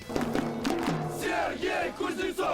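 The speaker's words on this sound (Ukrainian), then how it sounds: "Схвильовані фани Севастополя жваво обговорюють із президентом клубу останні новини, розпитують його про настрій футболістів і вигукують на ще порожньому стадіоні Буковини ім'я видатного волейболіста" Football fans of Sevastopol chanting a name in the nearly empty Bukovyna stadium, several voices shouting in ragged rhythmic bursts, close and loud, with echoing calls overlapping.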